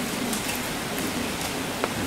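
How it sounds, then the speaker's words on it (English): Steady rain falling in the woods, a dense and constant patter with a few sharper drops landing nearby, and no voices. "of course it kept right on raining"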